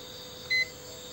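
A multimeter in continuity buzzer mode gives a single short beep while its probes test a used RTX 3090 Ti 24GB graphics board, a brief clean tone over a quiet electrical hum.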